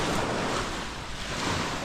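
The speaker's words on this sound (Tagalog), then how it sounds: "Ito yung dagat oh." Sea waves wash in on a beach shore, a steady broadband roar of surf with wind buffeting the microphone, continuous with no talking.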